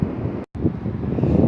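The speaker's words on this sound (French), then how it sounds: "je sais pas si vous allez bien m'entendre parce qu'il y a un peu de vent là" Wind gusting across a microphone at the beach, a steady low rumbling roar that swells louder toward the end, broken by a brief dropout.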